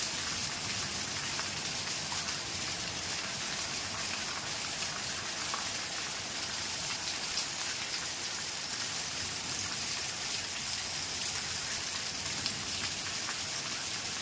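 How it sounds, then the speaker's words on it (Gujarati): Heavy, torrential rain pours steadily at a school in the early evening, a dense, continuous hiss of drops striking surfaces close by that holds without a break, with no voices. "ધોધમાર વરસાદ ચાલુ થઈ ગયો સાહેબ જોઈ શકો છો"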